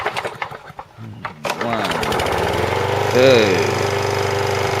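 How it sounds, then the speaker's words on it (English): A small lawn mower engine sputters and catches on the third pull, then settles into a steady loud running drone, with someone speaking before and over it. "then we'll see if the lawnmower will start"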